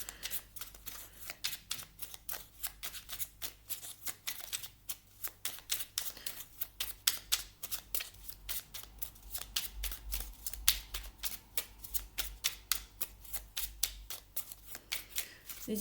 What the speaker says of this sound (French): On va aller chercher une petite carte là de l'oracle, le petit oracle de Merlin.